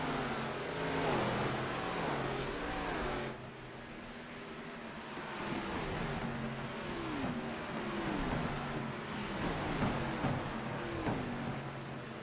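Several race cars from a K&N Series sim racing game run together on track, engines revving and sweeping through gear changes in overlapping waves at a steady, moderate level.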